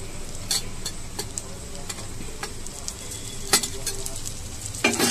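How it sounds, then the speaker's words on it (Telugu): Fresh fish roe from a pond fish hits a hot pan and fries with a steady crackling sizzle, broken by occasional sharp ticks and a few scrapes of stirring. "మనం ఫ్రెష్గా కడుక్కున్న ఫిష్ ఎగ్స్ వేసేసుకుందాం."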